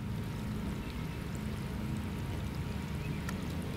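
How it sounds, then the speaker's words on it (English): Water trickles steadily out of the outlet of a solar pool heater, a low continuous splashing wash that runs alone without a break. "It's like a trickle coming out of there."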